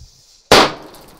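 A firecracker exploding on a stretchy rubber toy: one sharp, loud close bang with a short noisy decay trailing off into quiet.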